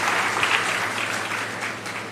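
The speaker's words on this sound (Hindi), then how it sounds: "तालियों से उनका स्वागत करें" Sustained, dense applause from an audience welcoming minister Umesh Patel at an unemployment allowance government event in Chhattisgarh, steady and fairly loud throughout.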